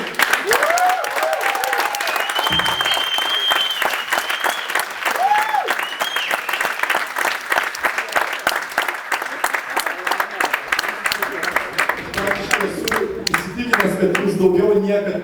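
An audience at a stand-up comedy club show in Šiauliai breaks into sustained, dense applause for a comedian leaving the stage, steady clapping throughout with a host's voice speaking over it.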